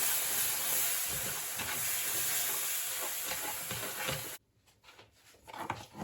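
Mango purée caramelizing in a pan on a stove over medium heat, giving a steady close sizzle and hiss with faint stirring scrapes, then dropping to a quieter bubbling crackle near the end.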